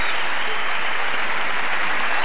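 Crowd applause fills the arena at the 1996 Legends of Figure Skating competition as defending champions skate a tango, a steady dense clapping wash throughout.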